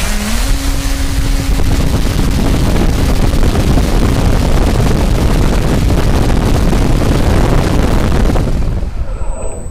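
RC electric motor run up on throttle from a Hobbyking Nanotech 65C LiPo pack at about 24 volts, a rising whine that swells into a loud, rushing roar before cutting off near the end.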